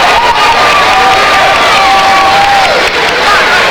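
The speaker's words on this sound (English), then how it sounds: "You hear the crowd reaction." High school basketball crowd in a gym reacting to a travel call, loud sustained cheering and shouting with whistles and whoops throughout, no pause in the noise.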